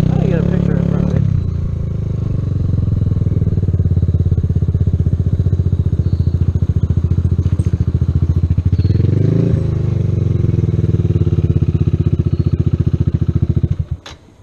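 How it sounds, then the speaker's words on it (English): Kawasaki Z125 motorcycle engine running loud and close, a steady throbbing drone with a rise in pitch near the end before it cuts out, heard on a street outside an old store. "it's a Kawasaki Z125."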